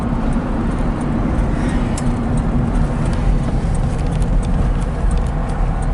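A light 1965 Porsche 356C is driven on the road, its small engine giving a steady, loud rumble with road and wind noise and occasional light rattles throughout, no voices.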